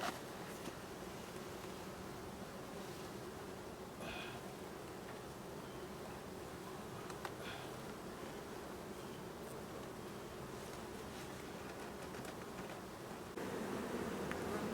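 Honeybees swarm and buzz steadily around an opened bottom brood box during a hive check, a dense continuous drone close by with faint rustling, no voices.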